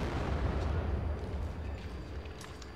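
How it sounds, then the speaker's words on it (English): A controlled explosion reported on a television news broadcast inside the GTA IV video game, heard as a loud, rumbling burst of noise that fades over a few seconds. "Later they located it and conducted a controlled explosion."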